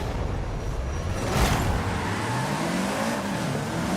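A tuned car in the racing game Forza Horizon 5 revs and accelerates through gears during free roam, engine pitch climbing steadily with a brief burst of tire noise, loud and close with no voices.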